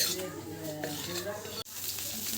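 Carrots, beans and capsicum frying in a pan for village-style fried rice, a steady close sizzle with faint stirring and a brief break near the end, with tonal background sound running underneath.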